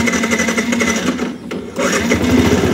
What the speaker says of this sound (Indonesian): kita langsung cek soundkan aja ya, biar kalian gak penasaran ke suara mesinnya teman-teman